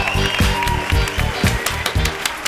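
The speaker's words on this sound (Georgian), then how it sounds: "ამას ტაში უნდა ბავშვო." An audience in a television talent-show studio breaks into sustained, dense clapping for a singer, loud and even across the whole stretch, with a faint murmur of voices beneath.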